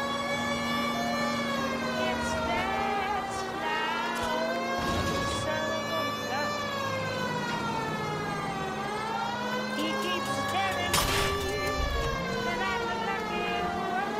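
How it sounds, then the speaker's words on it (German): Police car siren in the video game L.A. Noire, a steady wailing tone rising and falling continuously over engine rumble, with a couple of brief noise bursts midway. "wenn ich die Sirene anhabe"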